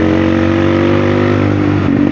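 A Honda NX 200 motorcycle engine running loud and close, a steady harmonic drone that shifts slightly and revs near the end, with no talking over it.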